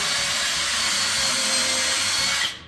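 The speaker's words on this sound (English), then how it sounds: "make a small little indentation with my drill bit" A power drill whirs continuously at high speed, loud and close, driving a screw at a steep angle into a wooden framing stud, then cuts off abruptly near the end.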